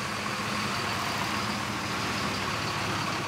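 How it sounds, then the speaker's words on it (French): Steady, loud mechanical din of refrigerated trucks idling, with a constant broadband engine and compressor rumble that holds unchanged throughout, with no voices. "Du vacarme des camions frigo"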